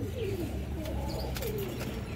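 Pigeons, including black Bagha hens, coo repeatedly in soft, low rolling calls, several overlapping close by over a steady background hum, with no talking.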